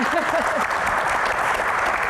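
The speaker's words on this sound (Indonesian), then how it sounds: "Oke, tepuk tangan semangat dulu buat Ibu Iren ya." Sustained applause from a crowd fills the room, steady and fairly loud, with brief vocal tones audible at the start.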